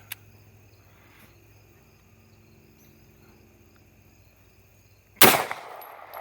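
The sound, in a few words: 9mm full metal jacket gunshots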